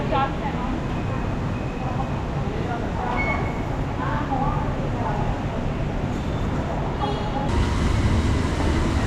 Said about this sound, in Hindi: और मेट्रो आ गई हमारी, चलते हैं